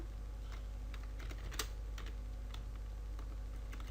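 Program code being typed on a computer keyboard, a steady run of light, close key clicks with one sharper tap partway through and a low background hum, no voices.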